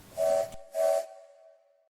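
A steam locomotive whistle sounds twice in short succession, two clear hissing blasts, the second trailing off into a fading tone.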